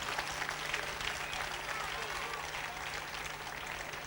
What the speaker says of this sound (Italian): un applauso a tutti i tecnici